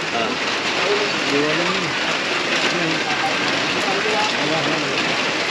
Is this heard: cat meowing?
no